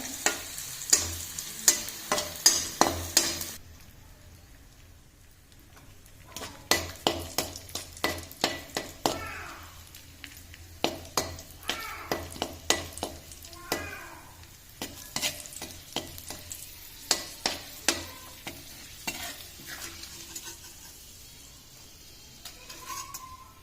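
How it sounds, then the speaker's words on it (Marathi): Raisins frying in leftover ghee for methi dry-fruit laddu, giving a soft sizzle under quick, rhythmic spoon scrapes and clicks against the pan, briefly quieter near the start and then busy throughout, with no voices. "आता या राहिलेल्या तुपामध्ये मी हे किसमिस सुद्धा असे तळून घ्यायचे छान."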